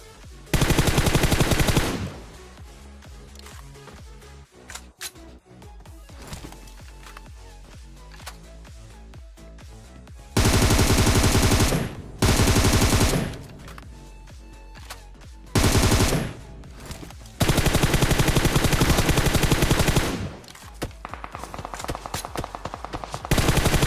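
Gunfire in the mobile battle game PUBG Mobile comes as several loud bursts of automatic fire, separated by stretches of quieter in-game ambience.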